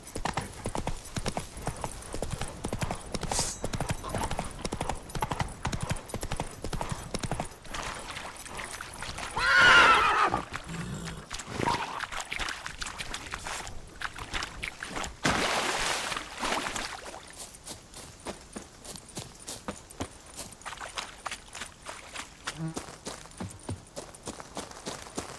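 Hooves clip-clop steadily as a horse runs in The Witcher 3, with a whinny partway through and a stretch of splashing water, rendered as close game sound effects.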